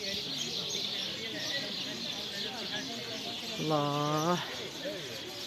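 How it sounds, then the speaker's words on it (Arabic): Birds call outdoors at Sidi Harazem in the evening, faint chirps over constant background hiss, with one brief clearer rising call near the end while someone speaks. "سمعوا صوت العصافير"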